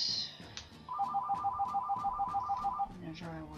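Electronic ringtone of a phone with an incoming call, a rapid warbling trill repeating steadily for about two seconds, with faint background sounds before and after.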